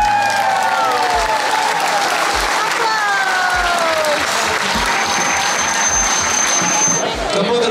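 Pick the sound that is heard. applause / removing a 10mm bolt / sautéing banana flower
applause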